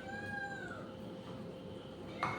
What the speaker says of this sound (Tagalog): Ang dami po malagang pusa dito.